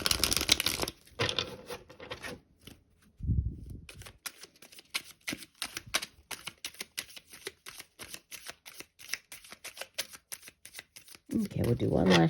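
Tarot cards are shuffled by hand in a long run of quick, crisp riffling flicks and slaps, close and fairly quiet, with brief bursts of louder handling at the start and end.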